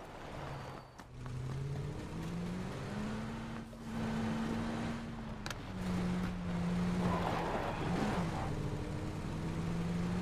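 Car engine in the video game PUBG revving steadily, a sustained droning tone that rises and falls in pitch across the whole stretch, loud and continuous with faint noise above.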